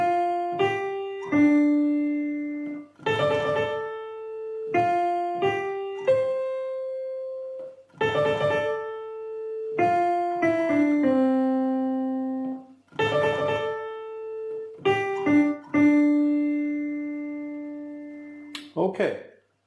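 Right-hand piano melody, played as separate phrases of single notes with short pauses between them, moderately loud and close, with no voice over it.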